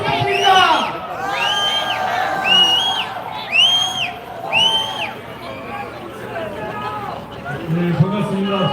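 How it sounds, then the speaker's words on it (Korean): Crowd at a candlelight rally urging impeachment raises repeated shrill whoops and cheers over a dense, steady hubbub of voices, with the loud excitement peaking in the first five seconds before settling into murmuring. "큰 박수 부탁드립니다"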